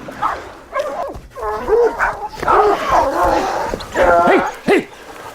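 Hunting dogs bark and yip in excited bursts during an African safari hunt, loud and close, several repeated barks with whimpers between them.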